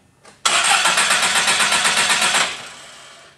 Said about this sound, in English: So crank the engine.